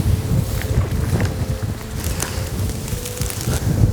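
Extreme wind buffets the microphone on open Kansas public land during a decoy hunt, a constant loud rumbling roar with gusty swells and no talk.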